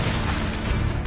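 Single loud, close blast of the Bombarda spell in Hogwarts Legacy, a dense crashing explosion that fills the whole moment without a break.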